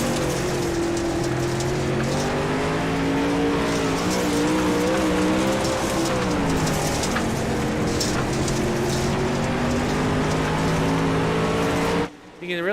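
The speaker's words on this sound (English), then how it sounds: "we go on board with John Darby with the Sim Motion onboard camera" Onboard a dirt track race car at Lernerville, the engine roars loud and close with shifting pitch as it works around the slick track, while a commentator talks over the noise.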